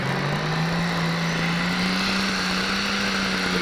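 Pro-class 12,000 lb pulling tractor at a 1998 Taylorville, Illinois tractor pull, its engine holding a loud, sustained high-rev roar that rises slightly in pitch and never lets up.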